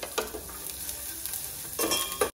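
Spices with curry leaves, fenugreek and paste sizzle and fry in a pan for kadhi while being stirred, a steady close crackle with scraping stir strokes swelling near the start and end.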